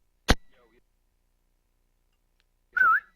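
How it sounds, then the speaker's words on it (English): A person whistles a short, wavering call to summon teammates during online game voice chat, heard alone and fairly close, preceded by a sharp click and a stretch of silence. "Whistling them in"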